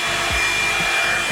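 A Revlon blow dryer brush runs steadily and close while drying natural hair, giving a continuous airy roar with a faint rhythmic low thump.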